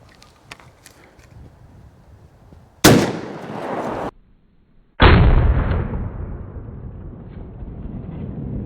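A New England Firearms Pardner .410 shotgun fires at an outdoor range: one loud, close blast with a long trailing rumble, plus a second sharp report about two seconds earlier, with no talking.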